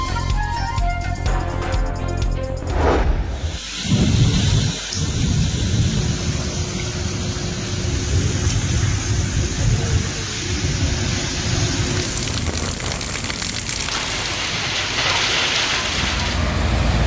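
Monsoon thunderstorm over Punjab with heavy rain, a loud crack and rumble of thunder early on followed by a dense, steady roar of downpour that continues to the end.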